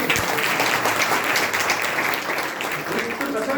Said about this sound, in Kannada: ಜೋರ ಚಪ್ಪಾಳೆ ನಾನೇ ತರ್ತೀನಿ